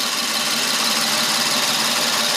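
A rebuilt twin-turbo Infiniti Q50 engine idles on first start after repair, a steady, loud mechanical drone with a busy high whir and even vibration, running continuously with no talk.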